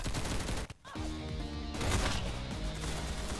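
Rapid gunfire in the Roblox game Arsenal, dense bursts of shots with a brief break in the middle, loud and continuous under the game's music.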